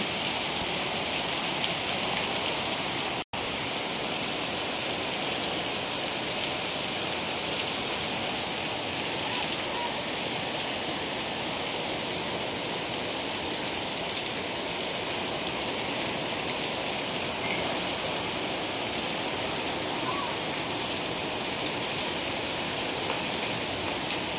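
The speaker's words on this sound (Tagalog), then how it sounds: "Ang lakas ng ulan." A downpour of heavy afternoon thunderstorm rain holds a constant, even roar of drops hitting surfaces throughout, broken only by one sharp instant click near the start, with no voices.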